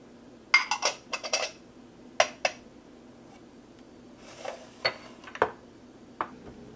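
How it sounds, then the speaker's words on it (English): A spoon knocks and scrapes around a bowl while carrot ginger bar batter with grated ginger, carrot, chia and hemp seeds is mixed, in irregular bursts of close clinks and clatter separated by short pauses. "Mix the batter very well and get ready to bake this goodie."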